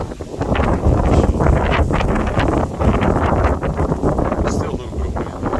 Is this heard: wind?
yes